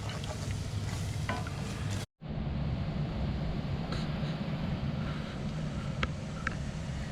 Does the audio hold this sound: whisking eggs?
yes